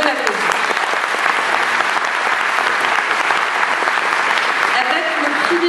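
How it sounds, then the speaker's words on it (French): A theater audience at the opening night of the Clermont-Ferrand International Short Film Festival breaks into loud, sustained applause, a dense, even clatter of many hands that continues without pause. "On peut l'applaudir."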